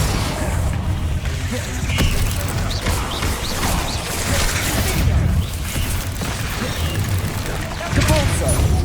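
The Repulsor spell is cast in Hogwarts Legacy, with loud game impacts, crashes and magical bursts mixed over dense battle noise and a speaking voice.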